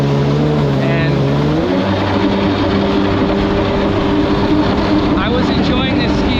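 A Kawasaki JS550 jet ski fitted with a swapped-in 750 engine and a new impeller runs steadily on the water, its engine drone climbing in pitch early on and then holding loud and close with rough, churning texture and possible talk.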